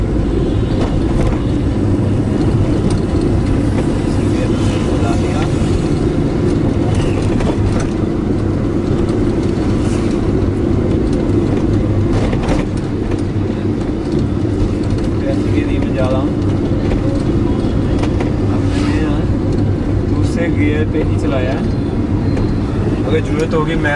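A car driven through city traffic in India gives a steady, loud rumble of engine and road noise with mechanical clicks, continuous throughout and without gaps.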